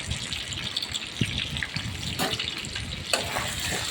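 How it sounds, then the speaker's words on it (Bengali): Hilsa fish heads frying in oil with salt and turmeric, a steady dense sizzle with occasional stirring clinks, close and continuous, no talk. "নুন হলুদ দিয়ে ইলিশ মাছের মাথাগুলো সুন্দর করে ভেজে"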